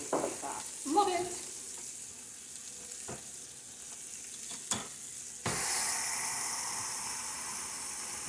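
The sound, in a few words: food sizzling on Pampered Chef Deluxe Grill and Griddle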